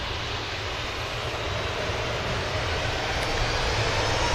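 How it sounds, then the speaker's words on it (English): Finnair jet engines at Manchester Airport spooling up, a steady mid-distance roar that slowly swells in loudness over a few seconds, with no talking. "Finnair about to spool up"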